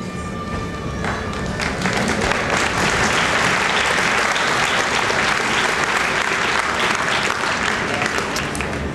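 An audience in a high school honors assembly breaks into sustained applause, with thick, even clapping that builds after a quieter first second and stays loud throughout, with a few faint tones early on.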